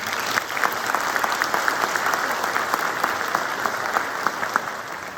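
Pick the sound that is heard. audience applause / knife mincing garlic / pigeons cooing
audience applause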